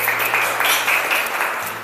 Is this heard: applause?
yes